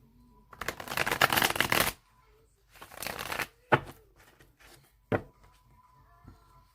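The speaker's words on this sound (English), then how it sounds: "I'm going to shuffle it 3 more times" A deck of cards being shuffled up close: two long riffling bursts followed by a few short snaps and taps, with quiet gaps between.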